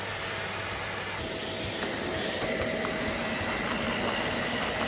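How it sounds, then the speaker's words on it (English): A vacuum cleaner with a worn wand and hose drones steadily with a strong rushing suction hiss and a high motor whine, loud and close throughout with no talk. "the suction is really good as well"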